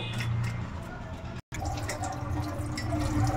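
Water splashes and drips steadily over a scaled hilsa fish as it is rinsed by hand, a continuous close wet trickle with a brief cut in the middle.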